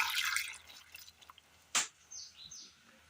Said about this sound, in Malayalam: ഇതിലേക്ക് ഒരൽപ്പം വെള്ളം ഒഴിച്ചു കൊടുക്കാം